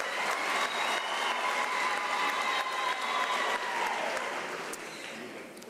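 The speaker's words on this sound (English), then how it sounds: "Please applaud for them." An audience at an academic year closing ceremony applauds an award-winning choir, a steady wash of clapping that holds level and then thins slightly near the end, with faint tones and murmurs beneath.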